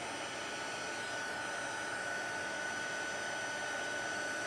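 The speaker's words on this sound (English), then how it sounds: "I'm going to turn on the heat tool, and it's going to be loud for a couple seconds while I start heat embossing these" A heat embossing tool blows hot air in a constant, loud, steady whir with a faint high whine, running alone from start to finish.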